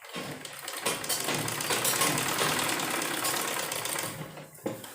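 A sewing machine runs continuously, stitching the seam of an umbrella-style sleeve. The close, steady whirring chatter lasts a few seconds before stopping abruptly, with no talk over it.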